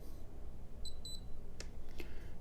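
Short electronic beeps from the keypad of a Xegis palm vein gun safe: two brief, high, clean tones in quick succession, close by over a faint room hum, with no talking.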